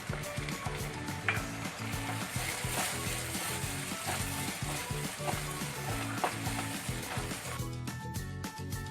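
Tomato paste frying in a pan with onion, ginger and garlic for a yogurt-based arbi (taro root) curry, a steady close sizzle with occasional stirring clinks, continuous throughout with no talking.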